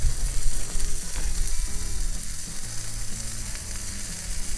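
Teriyaki sauce sizzles on grilled pineapple slices over a hot Akorn kamado grill, a steady close frying hiss with scattered crackles and faint metallic scraping, no talking.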